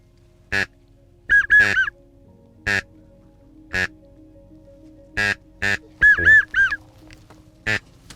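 Loud, nasal wild duck quacks and honking calls come in short bursts and doubled calls during a duck hunt, spaced irregularly over quiet background, close and clear.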